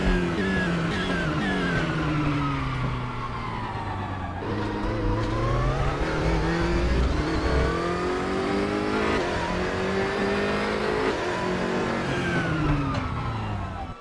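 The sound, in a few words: BMW race car engine revving, in-car cockpit view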